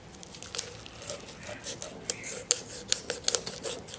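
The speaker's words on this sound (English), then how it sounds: "You can hear the rib bones clicking as I run down the outside of the rib bones." A knife clicks along the rib bones of a frozen drummer fish during filleting, making a close series of small sharp clicks and rasping scrapes that grow denser toward the end.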